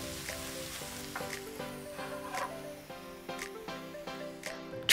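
Shredded cabbage and other egg roll vegetables sauté in a hot pan, a soft steady sizzle with faint stirring scrapes, close and fairly quiet, while gentle music plays underneath.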